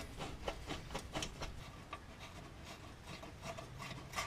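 A nut threaded by hand onto a stud while fitting a Perrin subframe lockdown kit under a Subaru, faint soft scraping and rubbing in a quick irregular rhythm, close and quiet with no talk.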